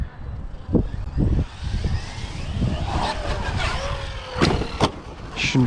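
A Traxxas Wide Maxx RC car drives outdoors, its electric motor whining in short revving bursts with scrapes and knocks, fairly close.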